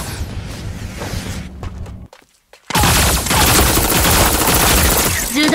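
Gunfire in the mecha shooter game Super Mecha Champions: loud, dense shooting over game noise, then a brief near-silent gap and a sustained loud burst of fire.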